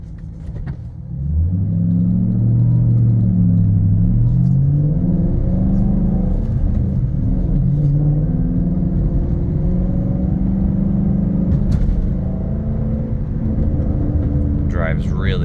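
A 2012 Ford Mustang Shelby GT500 driving on the road, its deep V8 rumble loud and close with rising and falling engine notes as it accelerates, droning steadily throughout.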